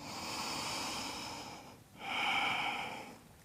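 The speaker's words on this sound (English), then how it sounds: "Breathing." Deep, audible breaths during a seated yoga bound angle pose, with a long exhale, a brief pause, then a strong nasal inhale, close and clear with no speech.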